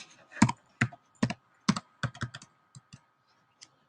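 Keys clack on a computer keyboard as a password is typed, a close, irregular run of sharp taps and short bursts that thins out toward the end, with no voices.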